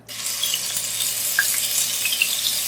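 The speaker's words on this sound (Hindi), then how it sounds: "लहसुन अदरक को 30 to 40 सेकंड्स फ्राई करेंगे, यानी कि सौटे करेंगे।" Loud, steady sizzling of ginger garlic paste frying in hot ghee, a continuous crackling hiss with small pops, close up and without talk.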